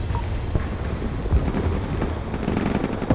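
Helicopter rotor drone mixed with bursts of gunfire in the Broken Arrow combat game, a steady low rumble with scattered sharp impacts and a few heavier hits, fairly loud and continuous.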